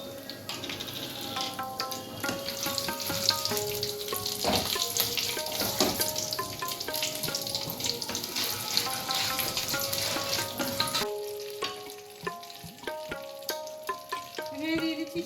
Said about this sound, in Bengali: এবার ওই তেলে দিয়ে দিচ্ছি কালো জিরে আর দুটো ফাটিয়ে নেওয়া কাঁচা লঙ্কা।